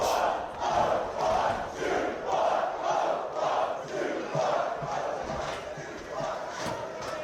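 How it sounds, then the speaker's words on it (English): A wrestling crowd at a tag team title ladder match chants in a steady rhythm of about two beats per second. The loud, massed voices sound roomy and continue throughout. "And Dereiss, as the crowd explodes in those chants of 0-1-2-1"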